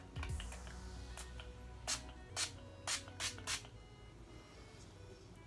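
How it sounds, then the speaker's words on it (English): Short bursts of an Elf post-workout cool-down face mist being spritzed, with several distinct sprays clustered in the middle, close and crisp over a quiet indoor background. "Hold nozzle a few inches away from your face to keep eyes closed and spritz."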